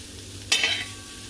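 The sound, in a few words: mixing cauliflower with masala in a tawa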